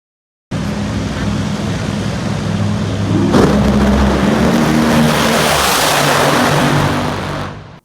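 Drag race cars launch down an NHRA strip at the York Nationals, a loud, sustained engine roar that swells sharply partway through and holds before cutting off abruptly.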